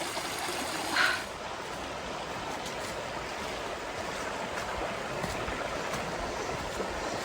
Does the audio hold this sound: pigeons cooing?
no